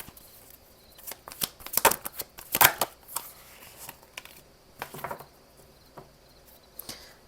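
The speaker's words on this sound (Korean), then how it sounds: "두 분의 관계를 위한 조언 카드 좀 뽑아볼게요" Tarot cards being shuffled and handled at close range, a fast papery riffle and clatter that comes in uneven bursts with short pauses between them and no voices.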